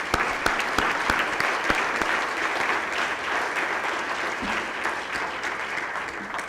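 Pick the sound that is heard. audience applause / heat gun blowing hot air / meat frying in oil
audience applause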